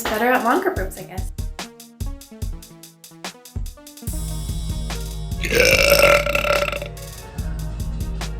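A girl lets out several burps, a few short ones in quick succession and then a long, drawn-out, loud burp, with brief moments of her talking between them.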